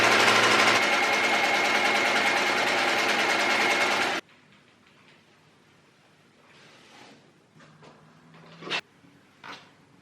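Sewing machine stitching the front seam of an upcycled shirt, a loud steady whirring run for about four seconds that stops abruptly, followed by faint handling clicks and rustles.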